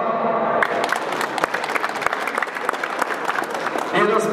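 Audience applause fills a hall at a women's boxing championship medal ceremony in Małopolska, a burst of dense steady clapping lasting several seconds, with a voice over the PA just before and after.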